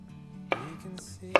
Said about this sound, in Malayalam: വെജിറ്റബിൾസ് അരിയാം.